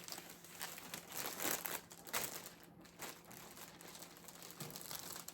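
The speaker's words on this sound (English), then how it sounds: "but this will go in a cellophane bag" A cellophane bag crinkles while clothes are packed for shipping, giving faint, irregular rustles and crackles in short bursts.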